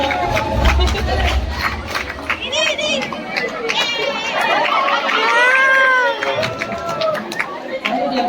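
A large crowd of staff and students at a medical college Onam celebration cheers and shouts loudly and continuously, with a dense mix of voices, whoops and chatter throughout.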